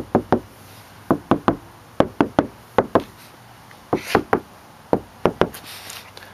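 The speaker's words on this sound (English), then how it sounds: "I'll show y'all what it sounds like compared with the Deadener, or well, the peel and seal, versus what the stock panels normally sound like." Knuckle knocks on a car door panel lined with two layers of Peel N' Seal deadener, about two dozen dull, close thuds in short clusters.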